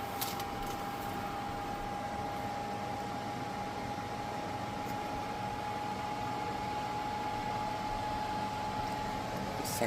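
A Fetions air purifier's fan draws air in with a steady, faint broadband whoosh and a thin constant tone, unchanging throughout, with no voices.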